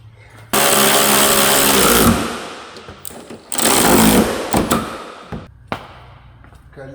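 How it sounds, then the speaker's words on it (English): A power tool fastens hood bolts on a Cadillac ATS-V in two loud, sustained whirring bursts of about one and a half seconds each, then clicks and handling noises with some quieter talk. "I'm going to be using a power tool to fasten it securely."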